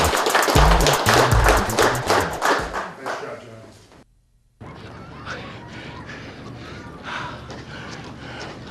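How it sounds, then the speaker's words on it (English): An audience bursts into loud applause honoring three firefighters at a mayor's ceremony, rapid dense clapping that fades out, then after a short gap a roomful of cheers and voices carries on. "join us in a round of applause for their hard work and dedication"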